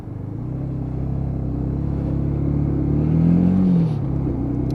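A UM Commando motorcycle engine while riding, a loud steady low rumble that swells slightly as the bike accelerates, then eases off near the end, with no talking.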